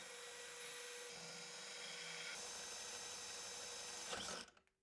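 A power drill whines steadily through an oak door, boring holes for a mortise lockset with a guiding jig, the motor pitch shifting slightly before it spins down and stops near the end.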